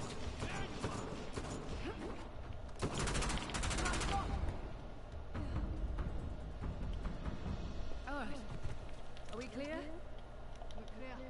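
Bursts of rapid gunfire from the video game Uncharted: The Lost Legacy, with a dense, sustained volley in the middle and scattered shots before and after, under a person's voice.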